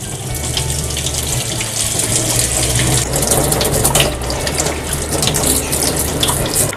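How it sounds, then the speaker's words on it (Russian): Tap water runs steadily into a sink while abalone is rinsed, a continuous close splashing hiss with slight fluctuations as the shellfish is moved under the stream. "Промываем."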